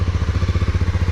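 A Honda CB300R motorcycle engine idles while warming up, a close, even low putter with quick rhythmic pulses and nobody speaking.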